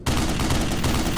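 A tripod-mounted machine gun fires a rapid, continuous burst in the shooter game Black Mesa, loud and close with rattling repeated shots throughout.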